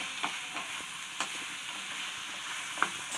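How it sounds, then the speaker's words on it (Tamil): Snake gourd stir-fry with added oil being stirred in a pan, a soft steady sizzle with a few light spatula knocks spaced through it, fairly quiet and without voices. "எண்ணெய் சேர்த்துக்கலாம், நல்லா கிளறி விட்டுக்கலாம்"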